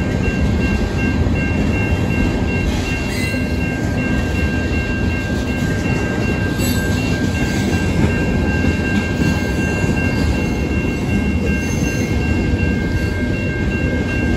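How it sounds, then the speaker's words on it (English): A freight train rolls past near Toledo in a steady, loud, continuous rumble of wheels and rail noise, with a faint high whine running through it and no talk for the whole stretch. "I will say this is basically the last train of this video, and the day actually."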